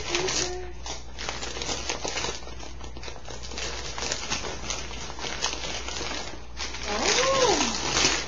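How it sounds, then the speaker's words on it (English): Wrapping paper being torn off a gift, with crinkling, tearing and rustling crackles running throughout under people talking, plus a short voice-like tone near the end. "Take off the wrapping paper."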